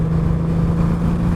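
Honda Valkyrie Rune motorcycle with the Gold Wing engine cruising on a highway, a steady loud engine drone with constant low hum and wind rush, no talking.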